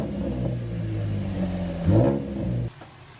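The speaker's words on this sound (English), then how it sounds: "Give her a couple little revs." A Chevrolet Camaro engine idles with a steady low rumble, then gets a quick rev that swells and falls away before the motor cuts out, heard up close from beneath the car.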